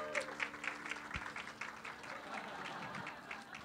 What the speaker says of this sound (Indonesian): kita tepuk tangan untuk Sheila dan juga untuk Sheva.